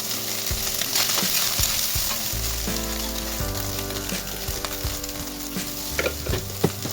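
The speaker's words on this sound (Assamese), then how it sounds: "এতিয়া কেৰাহীত মই তেল দিলোঁ অলপ সয়াবিন ভাজি ল'ম" Soybean chunks frying in oil in a wok, a steady close sizzle with occasional stirring scrapes and clinks throughout.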